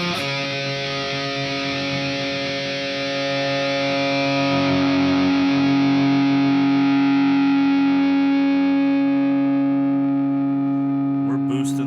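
Distorted electric guitar amp tone modeled on Greenback speakers, one loud sustained chord ringing out for several seconds with thick, saturated mids and a slow swell before a brief pick noise at the end.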